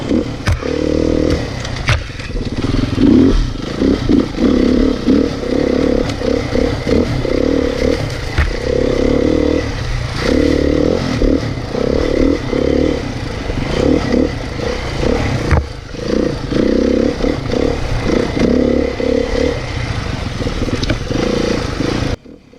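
A 2018 Beta dirt bike is ridden hard through the bush. The engine drones and revs without a break for the whole stretch, close and loud, with scraping and clattering from brush and terrain.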